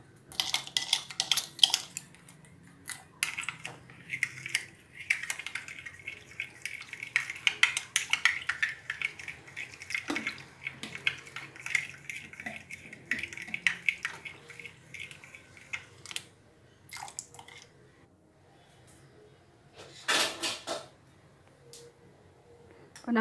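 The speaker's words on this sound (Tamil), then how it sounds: "இப்போ இது மிக்ஸ் பண்ணணும், ஒரு 4 to 5 minutes மாதிரி நல்லா மிக்ஸ் பண்ணிக்கிறணும்" Fish bun dough is stirred in a bowl, giving irregular scraping and clinking knocks with a few brief wet taps. The sounds are close and fairly quiet, with gaps between them.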